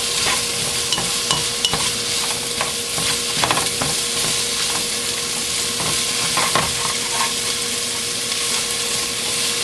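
Smoked sausage sautéing in a pot for a cabbage soup, a loud, dense sizzle with scattered crackles and spatters running steadily throughout, close up and without voices.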